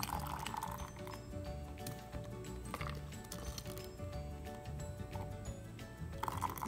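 Hot homemade grape jelly pours into sterilized glass jars, filled to about the rim, with faint clinks of glass and liquid sounds running steadily under a busy background of other noise.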